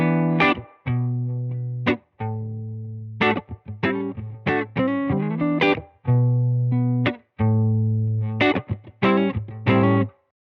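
Seuf OH20 electric guitar through a Spruce Effects Badlands pedal into a Benson Monarch Reverb amp, distorted and chorused chords struck one after another with sustained, shimmering decays and short gaps between.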